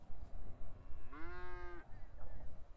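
A short, clear moo from a cow standing on a trailer in GTA 5 rises and holds for about half a second, then stops, over low background rumble and faint noise.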